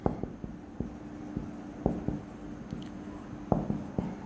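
Chalk or marker strokes on a board during a physics lecture, a series of short, sharp taps and scratches in irregular bursts, fairly close and quiet against a faint room hum.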